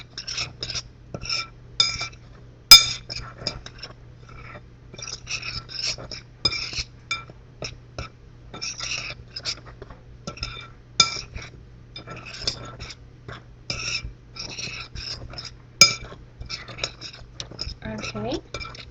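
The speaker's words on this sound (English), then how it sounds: "And then we're going to mix this all together. Mix it well together." A spoon clinks and scrapes against a bowl as apple pie ingredients are mixed together, bursts of sharp close tapping in an uneven rhythm, with a low steady hum beneath.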